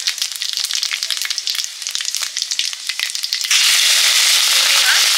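Dried red chillies and five-spice seeds hit hot oil for a leafy vegetable curry, crackling in dense close popping bursts that swell into a loud, steady sizzle.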